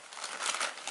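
Plastic bag from a diaper bag compartment crinkling up close, a brief dense rustle with no talk.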